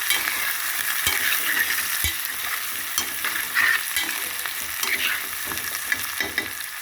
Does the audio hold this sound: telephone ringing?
no